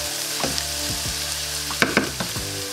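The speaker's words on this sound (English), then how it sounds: "let's saute all the vegetables" Vegetables sautéing in a pan over medium-high heat for a one-pan chicken and rice, a steady sizzle with a few soft scraping stirs and light knocks near the end, close and without speech.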